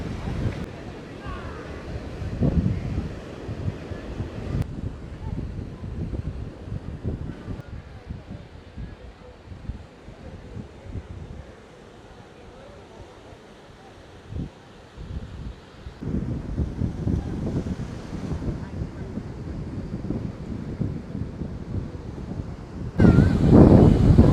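Sea waves and wind on Kovalam beach in Kerala, a rumbling wash of surf rising and falling with gusty wind buffeting the microphone, strongest near the start and end, while people talk over it.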